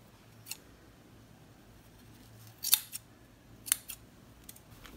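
Scissors snip through scraps of old denim jeans in a quiet craft setting, giving a few short, sharp cuts spaced apart over low background hiss.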